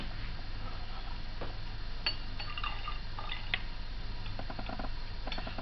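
Water poured slowly into a detergent solution in a glass container for a bubble mix, a steady liquid trickle with small drips and clinks under constant background noise.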